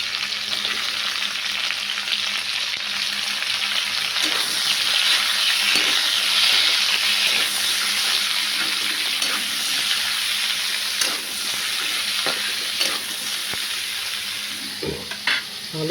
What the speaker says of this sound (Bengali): কাঁচকলা আর গাজর ভাজছি।